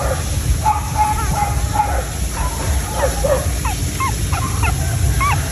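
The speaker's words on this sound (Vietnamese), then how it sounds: "Đây là bầy cún hiện tại nha." A litter of dachshund puppies yips and whimpers in a rapid series of short, high, rising squeaks, close by over a constant background hiss.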